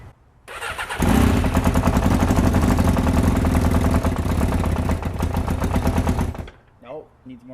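A Yamaha XJ600 motorcycle engine cranks loudly and rapidly for about five seconds without catching, then cuts off abruptly.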